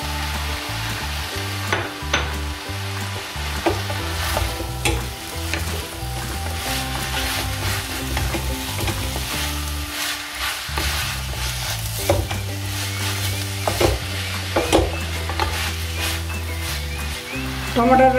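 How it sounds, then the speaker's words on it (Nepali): Tomatoes being stirred into siplingan greens frying in a pan, with steady sizzling and repeated scraping strokes of a spoon throughout, fairly close and continuous, with a little faint background noise. "टमाटर राखेर एकैछिन चलाइयो।"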